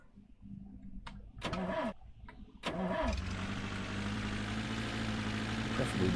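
A car engine in the video game The Long Drive, heard close as the car backs up: two short cranks at first, then the engine catches and settles into a steady running drone with a low hum.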